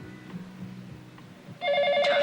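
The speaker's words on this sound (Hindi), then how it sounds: "फोन।" A telephone starts ringing with a loud, close electronic trill that begins abruptly near the end, after a brief stretch of quiet background with faint voices.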